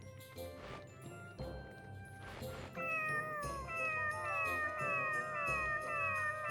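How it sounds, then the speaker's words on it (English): A cat meows repeatedly in a rising, wavering series of loud calls at close range, set over background game music and clatter. "That's a meow, not a purr."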